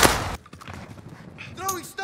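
MP40 submachine gun in a Call of Duty Black Ops Rebirth match: one sharp, loud shot opens, followed by quieter scattered game noises and a short voice-like chirp near the end.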